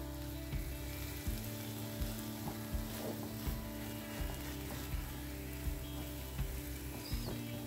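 Food for an evening tiffin snack sizzles steadily in a pan, a close continuous frying hiss with a low hum underneath and small regular spatters and taps throughout.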